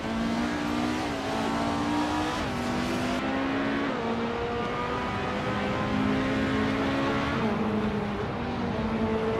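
Race cars accelerating hard during a race, continuous loud engine roar with rising and shifting revs, several cars overlapping, close and alone without voices.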